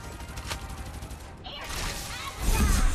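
Rapid video game gunfire from the shooter Farlight 84, a dense stream of close, loud shots that gets heavier toward the end, with a brief lull partway through.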